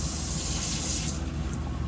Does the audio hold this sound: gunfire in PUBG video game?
no